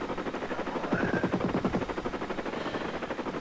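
In the Amiga game Desert Strike, a helicopter fires Hydra missiles in a rapid burst of repeated shots over a constant droning rotor hum. The burst lasts under a second and the drone carries on steadily afterwards.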